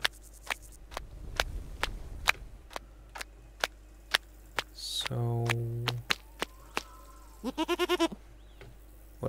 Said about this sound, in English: That goat.